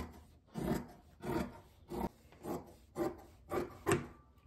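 Scissors cut out apron fabric in six rhythmic, close rasping snips about half a second apart, each a short swell of crisp shearing with quiet gaps between.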